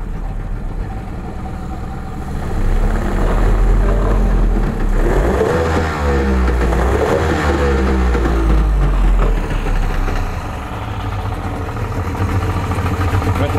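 A Yamaha 60 outboard motor on a carbureted setup revs up from idle, its steady roar swelling and sputtering a little before settling back down, loud and close throughout.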